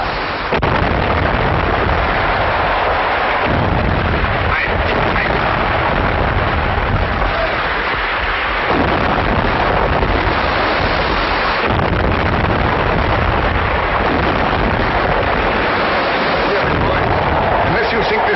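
Rapid gunfire and heavy explosions in a wartime film scene against a submarine, a dense, loud, continuous barrage with shouted commands running beneath the din throughout.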